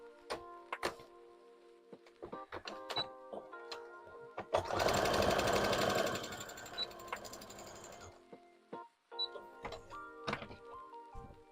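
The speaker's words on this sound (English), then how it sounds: "I'll probably cut this and like zigzag stitch the inside too" A sewing machine zigzag-stitches fabric for a League of Legends costume. The burst runs a few seconds with a rapid mechanical chatter, set between scattered clicks and knocks from the machine.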